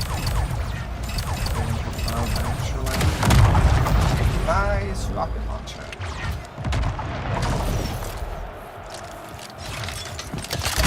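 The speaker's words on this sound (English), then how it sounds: "That moment when you take a rocket launcher blast at point blank range." Rocket launcher blasts in the Splitgate video game, heavy booming impacts and crashes amid chaotic in-game action, with a voice talking underneath.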